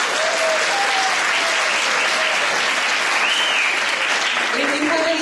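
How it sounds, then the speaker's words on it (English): Loud, continuous applause rises from an audience at a school Christmas play as the students are welcomed. Excited voices and a few whoops ring out through the packed clapping from start to finish. "let's have a round of applause for our students"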